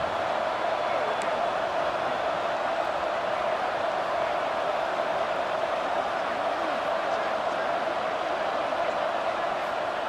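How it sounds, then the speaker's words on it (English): A dense, steady roar rises from a Boise State stadium crowd on third down in a college football video game, a constant loud wash of noise with no breaks. "This Boise State crowd bringing the noise. It's deafening here on 3rd down."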